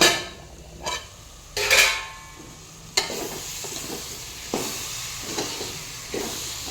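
Vegetables with fenugreek leaves being stirred in a cooking pot, a few sharp scrapes and clatters early, then a continuous soft sizzle broken by repeated stirring strokes, close and fairly loud, with no speech.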